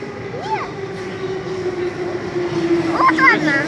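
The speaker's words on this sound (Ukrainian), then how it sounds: "Електричка." An electric commuter train rumbles steadily in the background with a droning hum as it arrives, while a voice and another voice speak briefly over it.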